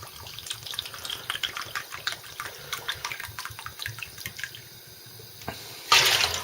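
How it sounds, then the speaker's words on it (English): One cup of white vinegar pours steadily into water in a pot being readied for dyeing Shapeways nylon prints, giving a close, continuous trickle and splash that ends in a brief louder gush. "one cup of white vinegar added to the water"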